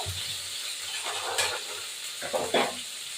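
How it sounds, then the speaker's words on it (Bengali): Paneer cubes frying in oil in a pan for a Bengali dish: a close, crackling sizzle with a few louder spitting bursts and faint stirring, no speech. "আমি পনিরটাকে একটু ভাজবো পনিরটা ভেজে আলু ভাজবো"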